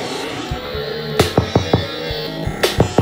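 Modular synthesizer with reverb switched back on, giving a hum-laden bed with a low pulse and sharp percussive blips that ring out into a reverberant tail, close and with no talking.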